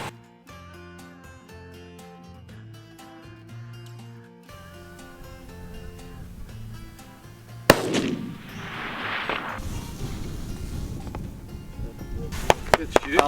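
A single loud, sharp rifle shot cracks out while deer hunting outdoors. It comes after a stretch of music and is followed by rumbling open-air ambience with a few faint clicks.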